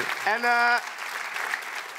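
Studio audience applause for a guest on a Dutch talk show, clapping building under a short spoken word and a bright musical sting at the start, then continuing as a steady, moderately faint patter.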